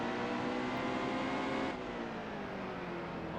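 A NASCAR Cup race car in NASCAR Heat 2 at Martinsville roars under hard acceleration, a loud, steady engine drone that holds and then dips slightly in pitch, with no talk over it.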